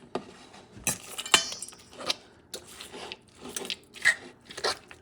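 Stuffing being mixed by hand in a bowl for a goose dish, heard as a run of soft, close scraping and clinking knocks that come at an irregular pace, with no talk over them.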